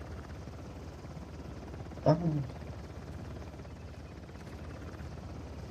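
A helicopter from the Uncharted: The Lost Legacy video game drones steadily throughout, a constant rotor hum, briefly overlaid by a short exclamation from a player's voice.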